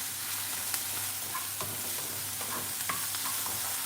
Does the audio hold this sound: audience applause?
no